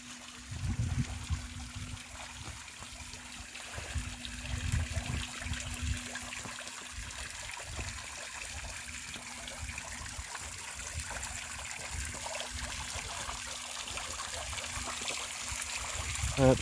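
Water trickles steadily from a fountain waterfall, a soft, low, continuous splashing close by with faint background hum.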